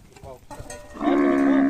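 Cattle moo during a herd vaccination, with clattering and a short call first, then one loud, sustained low moo close by.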